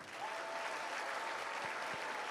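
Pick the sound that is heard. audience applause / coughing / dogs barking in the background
audience applause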